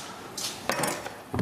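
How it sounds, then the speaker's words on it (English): A smaller kitchen knife is picked up in a kitchen during a cooking lesson, giving a few short metallic clinks and knocks against dishes, with a brief scrape partway through, fairly quiet and without talk. "Let me grab a smaller knife."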